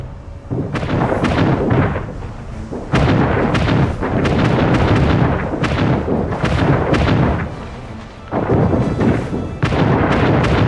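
Ship cannons in an Anno 1800 naval battle fire in a long series of heavy booming shots, some overlapping into rumbling volleys, loud and close with short gaps between bursts.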